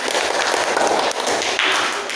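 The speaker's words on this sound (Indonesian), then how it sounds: "Berikan tepuk tangan untuk kita semua." Indoor audience applause in a classroom lesson, a dense, loud wash of many hands clapping continuously at close range, with no talk over it.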